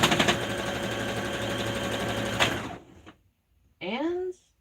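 A sewing machine stitches around a blanket, a loud, steady mechanical whir for about two and a half seconds that stops abruptly, followed by a short stretch of quiet and then a voice.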